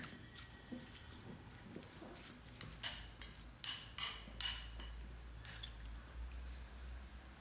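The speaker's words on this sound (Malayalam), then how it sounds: "ഇനിയിപ്പോൾ എനിക്കിതാ തൈര് അത് ചേർത്ത് ഇനി ഇളക്കിയെടുക്കണം." Curd being stirred into a fish curry mixture in a pot, giving soft wet squishing and scraping strokes with a few brighter clinks of the utensil, fairly quiet and close, no talking.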